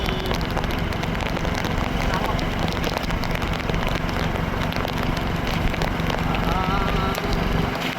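Steady dense patter of rain falling on a surface, loud and continuous throughout, with a voice speaking faintly underneath.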